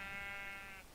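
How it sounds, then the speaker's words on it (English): A single Minecraft sheep bleat, one sustained wavering baa lasting under a second, clear and alone at moderate volume. "He's still the random sheep."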